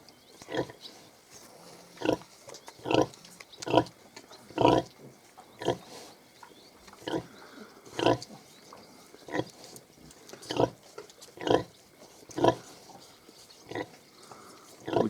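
Hungarian Mangalica piglets, about two and a half weeks old, grunt and squeal repeatedly in short bursts while suckling, a busy, irregular chorus of close oinks over a low barn background.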